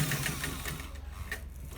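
Sewing machine running while stitching a shawl collar, a fast rapid-fire mechanical chatter of the needle, close and steady, easing off partway through.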